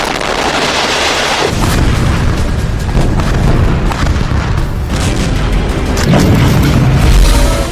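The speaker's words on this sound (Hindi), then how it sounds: "दो 2000 किलो का बम धमाका" A blast from a 2000 kg bomb in Gaza: loud, heavy booming and deep rumbling fill the whole stretch, with a second surge of rolling thunder near the end.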